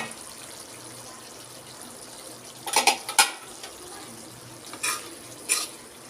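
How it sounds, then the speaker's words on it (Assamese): Papaya and soybean curry being stirred in a pan, with a few soft scraping, sloshing strokes clustered in the middle and near the end over a quiet, low simmering background. "ভাজিখন মাজতে অকণমান মই লৰাই দিছোঁ।"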